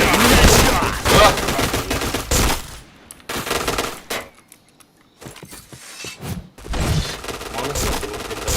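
PointBlank first-person shooter gunfire crackles in dense rapid bursts, loud and close, with a brief quieter gap midway before the shooting resumes.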